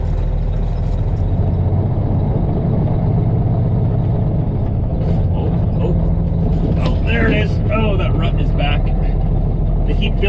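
A truck engine drones loud and steady while the truck drives on an oversize haul, a constant low rumble with road noise throughout and a stretch of rattling and squeaks toward the end.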